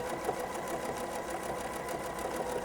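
A sewing machine quilting feather designs with King Tut Egyptian cotton thread, its needle hammering in a fast, steady, even rhythm, close and alone.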